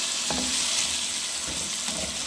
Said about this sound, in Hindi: इसको हम अच्छी तरह मिक्स कर लेंगे और टमाटर को हम इतना भून लेंगे